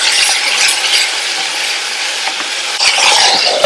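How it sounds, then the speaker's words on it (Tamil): Tomatoes with salt sautéing in a pan for a quick chutney served with idli and dosa, a steady close sizzle with occasional scraping stir sounds, no talking. "இப்ப நம்ம சேர்த்திருக்கிற தக்காளி எல்லாம் நல்லா வதங்கி வரட்டும்."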